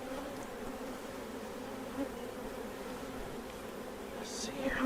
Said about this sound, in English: And there are bees every fucking where.